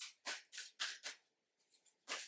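Quiet, close papery snaps of playing cards being shuffled, several quick bursts in an uneven rhythm, a short pause, then one final flick.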